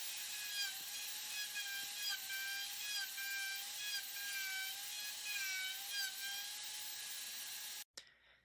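A universal router on a woodworking jig cuts bench leg pieces for a stool with 10-degree compound-angle legs, giving a steady, loud high-pitched whine with wavering tones that runs unbroken for about eight seconds, then cuts off abruptly.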